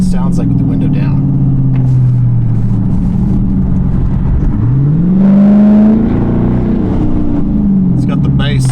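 A Dodge Charger R/T engine rumbles loudly with deep exhaust after full bolt-on upgrades, revving up and down through the rise and fall of the throttle, close by.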